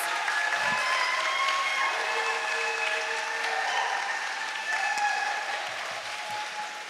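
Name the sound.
audience applause for performers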